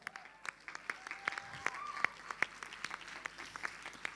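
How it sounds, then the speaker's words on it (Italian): Sparse, quiet clapping from an audience at an international school festival awards ceremony, individual claps landing in a loose, irregular rhythm over a faint room background. "Un applauso."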